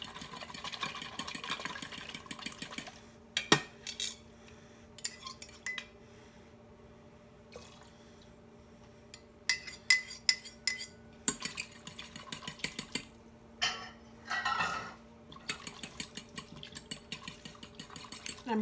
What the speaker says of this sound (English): I'm just whisking it as I add with my fork